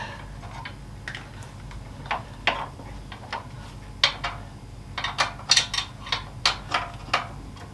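A 1/2 inch spanner works a nut on a 2021 Harley-Davidson Sport Glide radiator guard, giving sparse metallic ticks and clicks that quicken into a rapid run of sharp ratcheting taps near the end.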